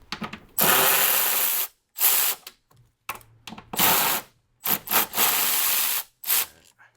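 Loud, close bursts of a power tool whirring and rattling on an aluminum exhaust hanger, several in a row with short pauses between them.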